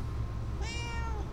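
A cat meows once inside the video game Murdered: Soul Suspect, a single clear, rising and falling meow over a low steady background hum.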